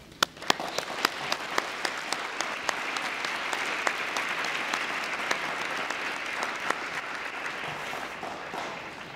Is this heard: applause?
yes